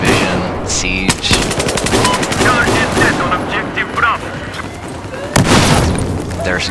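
Flashbang grenades and gunfire in the shooter game Battlefield 4: loud rapid automatic bursts and sharp bangs, with a voice talking over the din.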